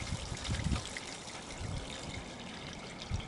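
Steady trickling water draining through a house roof gutter fitted with brush guards, a continuous close gurgling flow with low bubbly rumbles, no voices.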